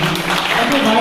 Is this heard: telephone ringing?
no